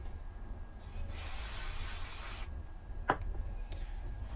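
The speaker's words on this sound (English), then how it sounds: "and you spray the activator onto the other side of the joint" Glue activator sprayed from an aerosol can onto a timber mitre joint of a loft door architrave, a steady close hiss lasting about a second and a half, followed by a few faint handling knocks.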